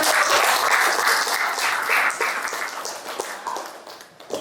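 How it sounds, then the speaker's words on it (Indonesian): A classroom of students applauds at a teacher's prompt, brisk close clapping that thins and tapers off over a few seconds. "Oke, tepuk tangan."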